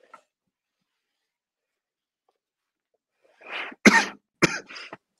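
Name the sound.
speaker coughing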